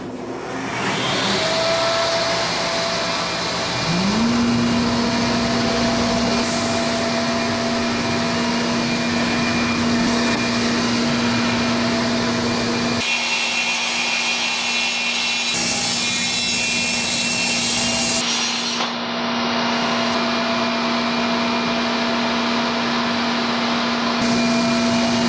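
Table saw ripping through a wooden cabinet box panel, a loud sustained whine with the blade's pitch rising as it spins up, then steady cutting noise and a brief shift midway, running close for the full length without talk.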